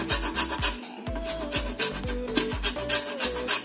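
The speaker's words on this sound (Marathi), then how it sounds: "लिंबू आणि त्याची ही जी वरची साल आहे तर मी ते ह्याच्यावरती किसून घेणार आहे" A lemon's yellow peel is grated for a plum cake, with quick repeated rasping scrapes against a metal grater. The strokes come in a steady rhythm, close and fairly loud, with no one talking.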